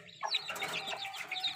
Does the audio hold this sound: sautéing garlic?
no